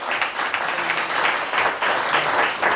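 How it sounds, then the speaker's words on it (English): Audience at a school quiz competition applauds both tied teams, a dense burst of clapping with uneven swells over a few seconds, heard alone without talk. "Let's have a round of applause for both teams to get to where we are."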